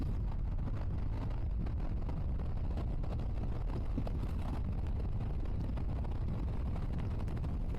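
A maxi scooter engine drones steadily under heavy wind rush while accelerating, with a constant roaring buffet throughout and no talking.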